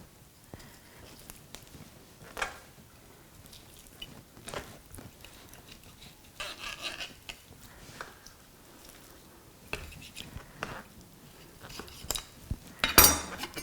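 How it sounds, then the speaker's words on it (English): A filleting knife cuts through a whole chicken's rib cage with faint, intermittent cracks, scrapes and clicks, quiet and close, with a sharper snap near the end. "just cut away the rest of the rib cage using the filleting knife"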